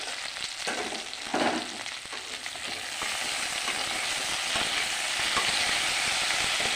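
Potatoes fry in oil in a wok, a loud, dense, continuous sizzle with a brief stirring scrape near the start, steady and close.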